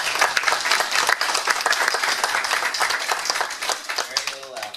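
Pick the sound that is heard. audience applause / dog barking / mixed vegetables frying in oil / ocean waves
audience applause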